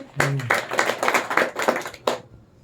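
A brief patter of hands clapping at a Pearlvine International business meeting in India, sparse and uneven, starting just after a short voice and fading out within about two seconds.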